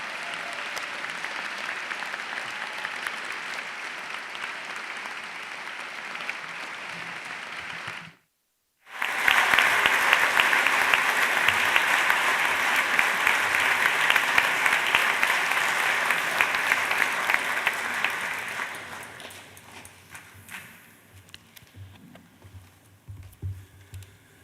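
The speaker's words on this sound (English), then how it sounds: "So please, a round of applause for our amazing lecturers, technical and support staff." Sustained applause from a large audience at a university awards ceremony, steady and dense for about eight seconds, a brief break, then another long burst that gradually fades out.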